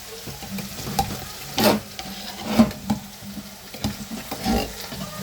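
Canned chopped tomatoes go into a hot frying pan with pork and spinach, giving a steady sizzle broken by a few louder splashy hisses and stirring scrapes, close up with no talking.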